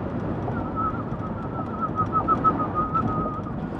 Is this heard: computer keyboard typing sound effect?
no